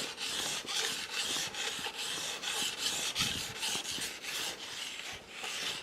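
Knife blade being sharpened on a whetstone, with a steady run of close, rhythmic rasping strokes back and forth across the stone, no voices.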